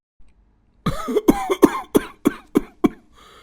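A run of about eight harsh, chesty coughs comes in quick succession, close and loud, after a brief silence.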